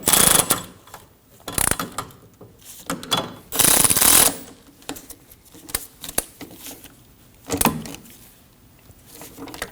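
A hand ratchet snugs down bolts on the rear brake of a 2003-2006 Subaru Baja during a parking brake shoe replacement, giving loud close clicking bursts in several short runs with quieter gaps.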